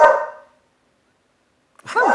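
A dog barks once loudly up close, then after a second of silence gives another bark with a whiny, rising tone.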